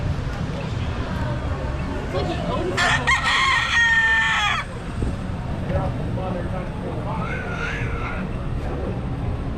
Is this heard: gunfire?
no